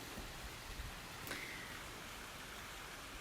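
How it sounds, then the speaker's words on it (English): A creek flows steadily nearby outdoors in a garden in November, heard as a faint, even rushing of water with no talking. "if you can hear the creek behind me, you know that we got plenty of that right now"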